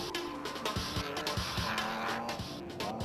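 Rally cars race past in a continuous loud roar, tyres squealing and skidding as a Ford overtakes during the Magalies 400 rally in 2013, engine noise steady and close throughout.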